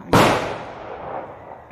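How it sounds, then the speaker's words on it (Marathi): A single sharp firecracker bang bursts loudly, then a long rumbling echo fades away. "किती फटाके"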